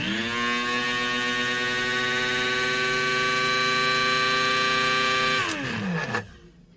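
A Proctor Silex 80402 electric coffee grinder runs with a loud, steady motor whine for about five seconds, then spins down quickly and falls silent.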